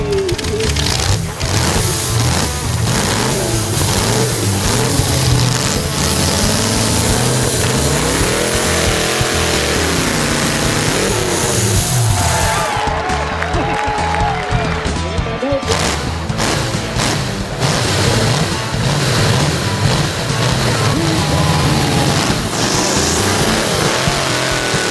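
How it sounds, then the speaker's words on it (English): A high-performance V8 car engine of over 300 horsepower, of the kind used in hot saw events, runs loud and close with rough, pulsing revs and surges that continue throughout. "This high-performance engine, likely a V8 from a car, delivers over 300 horsepower."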